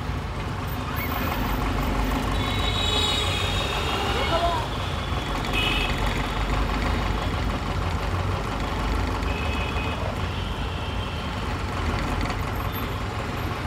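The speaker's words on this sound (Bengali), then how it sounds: "ব্রিজের উপরে জ্যাম, তাই আস্তে আস্তে যাচ্ছি" Slow, jammed traffic crawls across the Jatrabari flyover in Dhaka, with a steady roar of truck and bus engines close by, faint high beeps and a hiss of air brakes, while someone talks over the noise.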